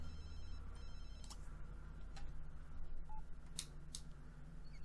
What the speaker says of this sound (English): Oh, April, answer that phone,